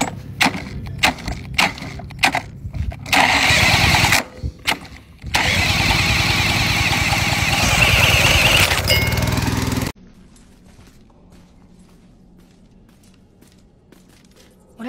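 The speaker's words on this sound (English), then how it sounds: "Here we got the old air compressor starter 1000." An old air compressor engine sputters through several rough start attempts in short bursts, then catches and runs loudly and steadily for a few seconds before cutting off abruptly, leaving only faint background noise.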